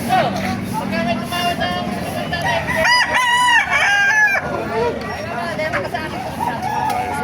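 Chickens and roosters crow and cluck at a busy chicken market in Baliuag, Bulacan, with repeated loud crows rising over a background of people talking and market noise.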